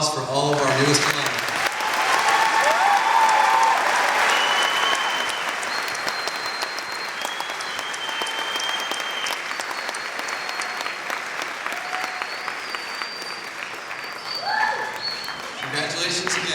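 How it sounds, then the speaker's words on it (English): A large audience applauds newest alumni at a 2019 senior awards ceremony, clapping swelling loudly early then settling into steady continuous applause with whistles and cheers, a voice briefly heard near the end. "How about one more round of applause for all of our newest alumni?"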